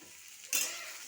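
Onion and potato fry in a pan, quiet at first, then a sudden burst of bright sizzling as the food is stirred or turned, fading slightly but continuing close by.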